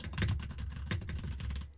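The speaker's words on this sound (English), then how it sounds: "see if it captures any of my typing sounds" Rapid typing on a computer keyboard, captured by a Fifine K690 microphone during gaming, gives a close, continuous patter of clicky keystrokes with no speech.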